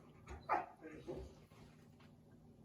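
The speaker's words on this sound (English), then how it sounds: "I'm here with two dogs, and there's an adorable Rottweiler, and he's kind of talking to me right now" A Rottweiler, one of two dogs nearby, gives soft whimpers and vocal moans while a person talks over it, and a brief sharper yelp comes at the end.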